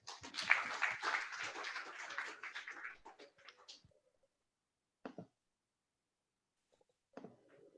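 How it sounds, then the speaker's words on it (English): Brief, thin applause at a Zoom meeting that fades out within a few seconds, followed by a couple of faint isolated sounds and silence. "can we please have a round of applause for Hannah Franklin?"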